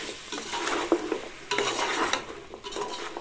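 Sliced tomatoes frying in a pan for mutton pulao, a close sizzle under brisk, repeated stirring scrapes and utensil clatter, no voices present.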